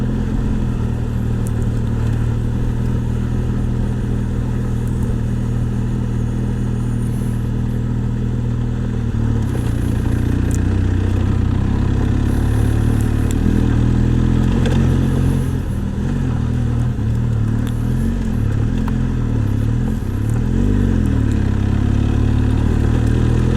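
A motorcycle rides along a mountain road toward Phandar at about 30–35 km/h, its engine droning loudly and steadily close by with rattling and wind rumble throughout, no voices.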